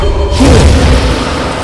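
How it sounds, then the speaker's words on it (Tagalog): A single loud, close fire explosion booms in an audio drama, a deep rumbling blast that swells quickly and holds as a dense roar for over a second. "At isang malakas na pagsabog ng apoy mula sa may kamay nito ang kanyang pinakawalan"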